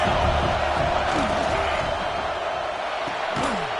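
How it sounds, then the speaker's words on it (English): Dense, continuous crowd roar fills a large stadium during a football game against Notre Dame, loud and steady, with scattered shouts and whistles rising through the din. "This crowd trying to make life miserable for this offense."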